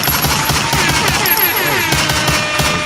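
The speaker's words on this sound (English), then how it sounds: "let's give you a gunshot for that" Loud gunfire sound effect dropped into a podcast, a rapid volley of shots with no one talking over it.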